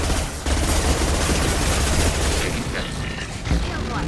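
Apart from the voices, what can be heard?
gunfire in the video game Mass Effect 2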